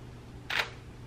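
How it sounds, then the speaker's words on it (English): A Canon 6D Mark II full-frame DSLR fires its shutter once, a single crisp mechanical click with a brief mirror slap, fairly close and alone against a quiet room background. "The shutter sounds so different."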